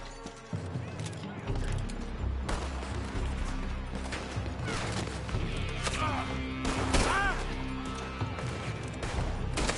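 Gunfire in Red Dead Redemption 2 cracks out in repeated sharp shots and clattering impacts, mixed with a dense game score and shouted voices, loud and continuous throughout.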